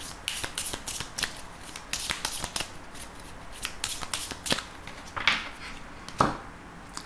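A deck of 32 playing cards being shuffled by hand, with repeated crisp riffling snaps and flutters in uneven bursts, close and fairly quiet, with no talking.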